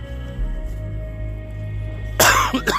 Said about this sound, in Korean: 기침이 나서